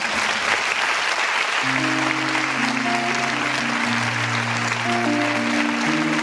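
Steady audience applause at a cancer charity gala carries on throughout, while sustained musical notes begin beneath the clapping partway through.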